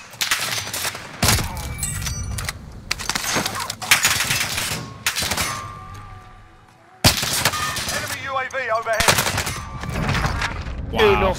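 Rapid bursts of video game gunfire from a Damascus LW3 Tundra match crackle loudly in repeated volleys with brief gaps, close and dominant, with faint voices underneath.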